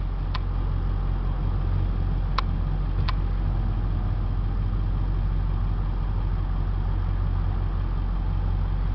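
A Ford F350 4x4 government snowplow truck with a low-mileage 7.3 diesel idles steadily and close up, a constant low rumble with a few brief sharp clicks and no talking.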